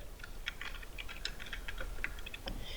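Rapid, light clicks of typing on a computer keyboard while entering text into a PDF form field, soft and close, in an uneven but steady patter with no voices.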